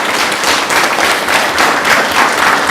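Steady, loud applause from the audience at a York County Council meeting, a dense wash of many hands clapping close by with no talking over it.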